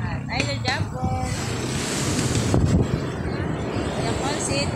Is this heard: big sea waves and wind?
yes